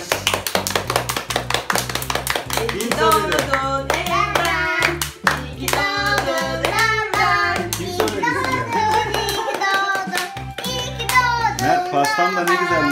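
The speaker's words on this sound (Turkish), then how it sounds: "Alkış. Alkış." A family gathered round a surprise birthday cake claps hands in quick, rhythmic unison, loud and close, while adults and someone talk and sing over the clapping throughout.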